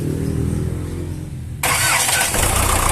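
An Isuzu 4BC2 diesel engine, stored unused for two years, turns over briefly then catches at once and settles into a loud, steady running clatter close by.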